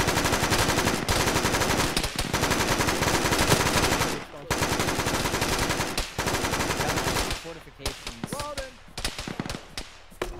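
Rapid automatic gunfire in the Arma military shooter, dense bursts of machine-gun and rifle fire crackling loudly for several seconds, then thinning into scattered individual shots, with a voice talking over part of it.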